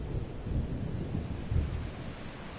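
Heavy thunderstorm in the hunting game Call of the Wild, a low continuous rumble of thunder with rain and wind, swelling into a louder roll around the middle and then easing back to a steady wash.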